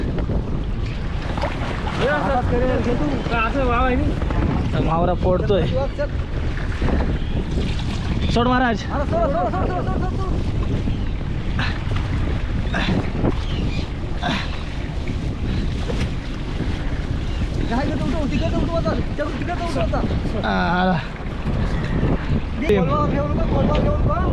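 Fishing boat at sea with a constant loud rush of wind, engine and water against the hull, while voices call out over the noise.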